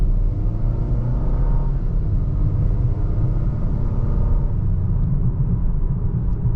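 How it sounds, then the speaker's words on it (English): A 2021 Volvo XC40 Inscription with a four-cylinder engine, in comfort mode with the automatic gearbox, accelerates uphill at half throttle, heard from the cabin as a steady, deep engine and road rumble with no talking. "we'll give it one more little acceleration going up the hill here"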